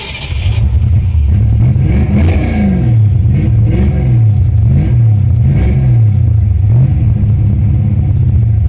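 A 1989 Ford Mustang GT Foxbody with a big cam fires up and revs repeatedly, its loud, lumpy V8 rising and falling in quick blips close by with no talking.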